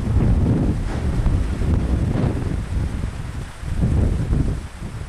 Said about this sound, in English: And now the wind's picked up a little bit.